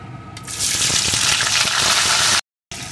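Chopped onion frying in hot oil with bay leaf and whole garam masala in a home kitchen, a loud bright sizzle that swells in after a moment and holds steady, broken by a brief gap near the end.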